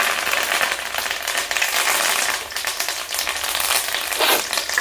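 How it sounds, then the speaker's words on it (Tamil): Mustard seeds, urad dal and fenugreek splutter in hot oil with curry leaves and dried red chillies for a village-style sundakkai kulambu, a dense, continuous crackling and popping that stays loud and close throughout. "இப்போது கடுகு, உளுத்தம்பருப்பு, வெந்தயம் நல்லா வெடிச்சிருச்சு, கலர் மாறிடுச்சு"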